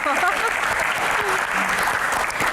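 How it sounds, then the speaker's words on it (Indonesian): A live Q&A audience gives a dense, sustained round of applause, loud and continuous, with crowd noise and faint voices underneath. "Uji skill, tepuk tangan dulu."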